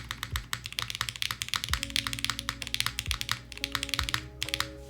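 Crisp, rapid keystrokes on an Aalto mechanical keyboard, a dense run of close, clean clicks and thocks with a few brief pauses, heard alone without talk.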